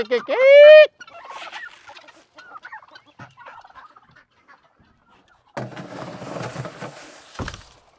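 Backyard poultry being given chicken scratch: a loud, close squawk opens, followed by soft scattered clucks and calls, then a burst of rustling and pecking noise near the end.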